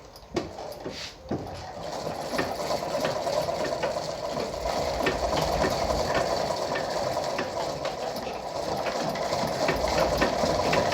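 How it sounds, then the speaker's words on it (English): A Lada 237-1 sewing machine winds a bobbin with a steady, continuous mechanical whir and faint rattling ticks, close by and running unbroken after a few brief clicks at the start. "that's how to wind your bobbin"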